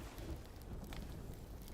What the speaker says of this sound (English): we got struck by lightning through the wood